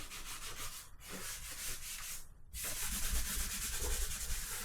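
Paper towels rubbed and wiped over freshly grouted shower tile in a DIY bathroom remodel, a steady close scrubbing rasp with short pauses between strokes, no talking.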